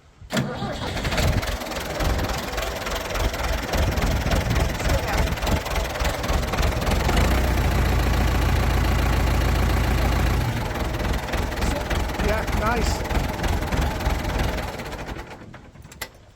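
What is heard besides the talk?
Ford 6600 tractor engine starting and idling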